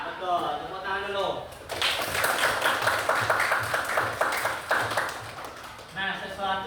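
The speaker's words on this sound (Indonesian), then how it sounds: "Tepuk tangan dulu" A classroom of students claps together in a burst of about four seconds, loud and dense, with a teacher's voice speaking before and after the applause.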